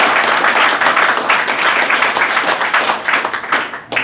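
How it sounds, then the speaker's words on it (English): Students at a spoken English institute in Prayagraj clap for themselves, loud, sustained audience applause with close, crisp hand claps that thins briefly near the end. "So please clap for yourself."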